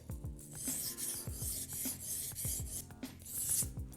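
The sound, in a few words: scissors being sharpened on a 1000-grit whetstone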